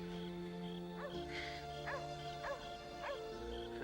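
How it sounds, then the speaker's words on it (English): A neighbours' dog barks several times at a distance, sharp separated barks under a steady background hum, with no talk over them. "That's the Miller's dog."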